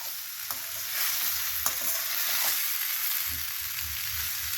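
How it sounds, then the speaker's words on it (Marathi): Amla (Indian gooseberry) sautéing in a pan gives a steady close hiss of sizzling, punctuated by a few light clicks of a spatula stirring, with no voices. "आपला आवळा परतून झालेला आहे."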